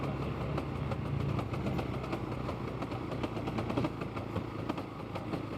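A motorcycle engine labours up a short incline in Uttarakhand with a worn chain set, giving a steady, fairly faint mechanical drone with a rough, rattly edge throughout.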